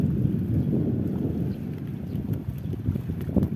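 Steady wind buffets the microphone with a low, rumbling roar and gusty thumps, with no voices.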